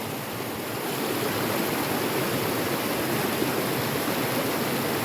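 A river runs steadily at a dispersed campsite in the Virginia and West Virginia hills, its constant broadband rush of water filling the scene with no pauses and no talking.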